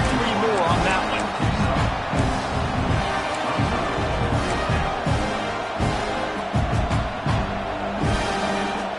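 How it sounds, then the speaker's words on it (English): Roaring stadium crowd in a college football video game during a fourth-down stand, a dense, loud, continuous wall of noise with rhythmic thumping underneath and commentary voices over it. "This crowd busting the decibel meter and trying to will a fourth down stop."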